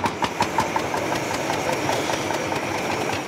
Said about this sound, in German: Der erste Motor springt an.